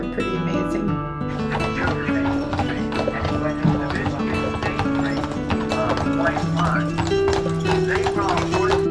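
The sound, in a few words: horses clip-clopping on Mackinac Island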